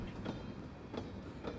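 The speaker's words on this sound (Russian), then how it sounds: "Мы едем в поезде." A moving train in Pathologic 2, with a continuous low rumble and evenly spaced clickety-clack wheel beats on the rails, fairly close and without talk.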